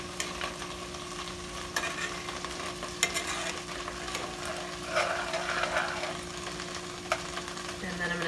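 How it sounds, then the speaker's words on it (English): A pot of simmering curry on an electric stove being stirred, with soft scraping and clinks of the spoon over a low bubbling sizzle and a steady background hum. "Then give it a stir."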